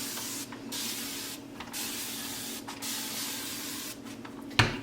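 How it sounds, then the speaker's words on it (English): On Guard cleaner sprayed from a trigger bottle onto a kitchen sink, a series of close, loud hissing spray bursts with short pauses between them, alone without talk. "I would just spray the On Guard, spray my sink to know that it's being sanitized."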